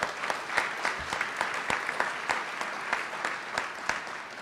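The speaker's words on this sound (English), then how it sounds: "Let's give Edie a round of applause." Applause for a board chair at a government investment announcement, moderately loud and fairly sparse, with individual sharp claps popping out above a softer wash of clapping throughout.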